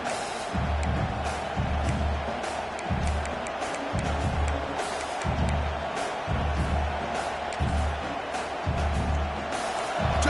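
Home crowd at a football game roaring steadily throughout, with rhythmic low thumping pulses beneath the dense cheering.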